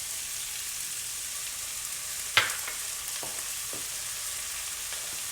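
Garlic, onions and peppers frying in a pan for chili, a steady close sizzle with one sharp clink of a utensil and a few faint stirring taps.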